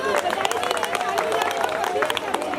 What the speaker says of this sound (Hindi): बजा दो तालियां बजा दो